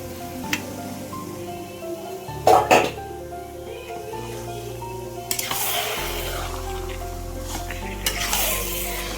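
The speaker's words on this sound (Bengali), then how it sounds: "এইবার দিয়ে দেবো মাংসটা, মাটনগুলো তারপরে সব দিয়ে দেবো।" Mutton goes into a frying tomato-spice masala for mutton biryani: a metal clatter, then a steady sizzle builds and continues to the end, with a brief cough-like sound in between.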